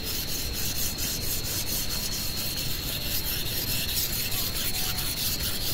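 Steady, continuous scraping of a blade rubbed back and forth on a whetstone, close and even, with no voices.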